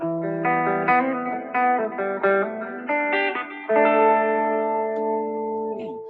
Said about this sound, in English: this is just the Princeton with some delay and some reverb